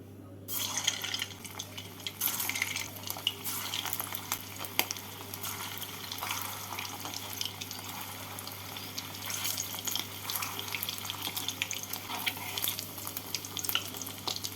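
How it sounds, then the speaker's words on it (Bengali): Mutton koftas sizzle and crackle steadily in hot white oil in a wok over a medium-low gas flame, a continuous close frying hiss with small pops throughout and no voices. "কোপ্তাগুলোকে হালকা লাল করে ভেজে তুলে নেব"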